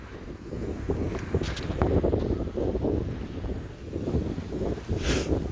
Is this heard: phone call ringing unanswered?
no